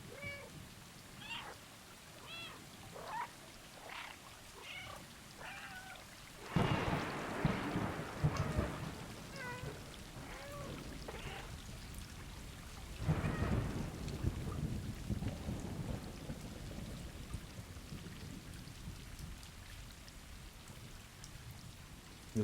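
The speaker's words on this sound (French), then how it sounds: "parti pour un quart d'heure d'ASMR orage et miaou miaou." Thunderstorm rain in the Stray video game: a steady wash of rainfall with two loud rolling thunder bursts, plus short cat meows scattered through the first few seconds.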